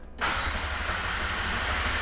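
A McLaren 720S fires up after silence with exhaust valves working, a sharp startup burst settling straight into a steady, loud, broadband engine roar close to the microphone.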